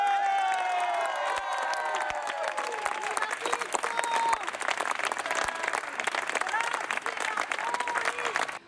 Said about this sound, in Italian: Un applauso al sindaco!